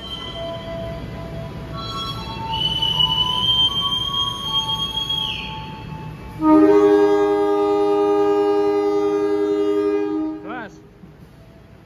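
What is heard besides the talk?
Logawa passenger train departing Lempuyangan station, horn sounding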